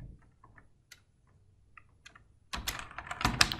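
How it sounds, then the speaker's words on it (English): Fingers typing code on a computer keyboard, sparse soft key taps at first, then a quicker, louder flurry of clicks near the end, close up and without speech. "so I'll just type in"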